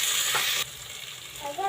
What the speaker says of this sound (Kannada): ಇದೊಂದು ದೊಡ್ಡ ಟೊಮೊಟೊ. ಇಷ್ಟನ್ನು ಸಹ ಫ್ರೈ ಮಾಡ್ಕೋಬೇಕು.